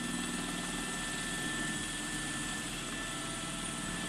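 A police helicopter hovers overhead during a chase after a motorcyclist, its rotor and engine making a steady, loud, continuous drone that stays even throughout with no talk over it.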